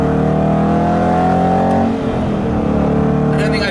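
An Aston Martin GT8 engine howls near the top of its rev range, a loud sustained high note that drops off as revs fall, then a rougher lower engine rumble under a brief voice.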